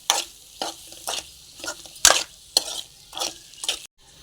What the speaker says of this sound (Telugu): ఇప్పుడు ఇదంతా బాగా ఫ్రై అవ్వాలి.